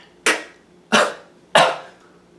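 Three sharp, evenly spaced coughs, each a loud abrupt burst that trails off quickly, heard close up with a quiet background in between.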